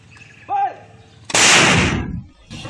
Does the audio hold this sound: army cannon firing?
yes